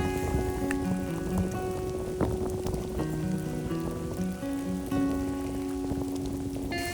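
Rain falls on a camping site amid wind, a dense steady patter of drops on surfaces with scattered sharper taps, while a musical melody plays over it throughout.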